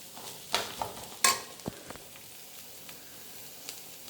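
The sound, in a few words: vegetables frying in pan for chikkulu curry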